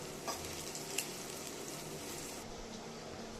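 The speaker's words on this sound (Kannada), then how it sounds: "ಲೈಟ್ ಬ್ರೌನ್ ಕಲರ್ ಆಗೋವರೆಗೂ ಫ್ರೈ ಮಾಡ್ಕೋಬೇಕು." A medium onion frying in a pan until light brown, a faint, even sizzle with a couple of soft stirring clicks, heard alone.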